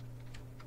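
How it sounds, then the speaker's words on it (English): Rapid light clicks of keys typed on a computer keyboard while editing text, a few quick strokes over a low steady hum. "I can hit the delete key and type the new text"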